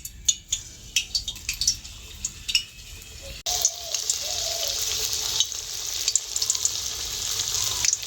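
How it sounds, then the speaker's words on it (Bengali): Veg manchurian balls drop into hot oil and deep-fry with a loud, continuous bubbling hiss; several utensil taps and clinks come first, then a steady close sizzle takes over. "তেলটা গরম হয়ে গেছে, এবার তেলের মধ্যে দিয়ে ভেজে নেব।"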